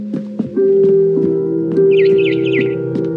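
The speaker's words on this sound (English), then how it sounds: "It was a barn swallow going back to her nest." A barn swallow chirps over a sustained tonal musical backdrop in the video game What Remains of Edith Finch, a burst of rapid warbling twitters standing out clearly midway, with sparse plucked notes around it.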